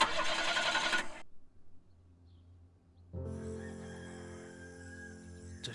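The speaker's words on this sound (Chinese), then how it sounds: "车发动机坏了" A broken car engine gives a rough cranking burst, cuts out into near silence, then settles into a low, steady droning hum.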